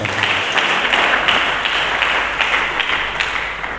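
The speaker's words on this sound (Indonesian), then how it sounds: "Mari kita berikan tepuk tangan." A church congregation applauds during a sermon, a dense, steady wash of many hands clapping together in a large room, sustained and fairly loud with no talking over it.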